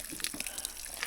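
Mountain spring water trickling at a water source in the Carolina mountains, a soft, close babbling and dripping that stays faint and continuous for a brief moment, with no voices.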